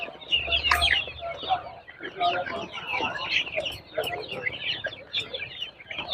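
Hens cluck and chatter close by in a busy flock at a poultry market in Peruvallur, Kerala, with people talking over them throughout.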